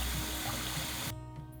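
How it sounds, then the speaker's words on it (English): Cold tap water pours steadily over mint leaves draining in a sieve, a loud close rushing splash that cuts off abruptly near the end, leaving a quieter residual trickle. "Then drain in a sieve and rinse with cold water while still in the sieve to stop the cooking process."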